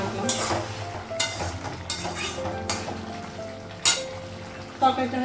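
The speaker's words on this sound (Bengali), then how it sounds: "ডালটা হচ্ছে এদিকে ফোড়নে দেবো" Spices for a dal tempering sizzle and fry in hot oil in a home kitchen, a steady crackle punctuated by several sharp clinks of a utensil against the pan.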